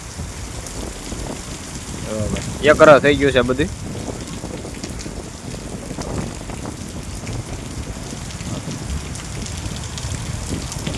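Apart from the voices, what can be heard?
heavy rain falling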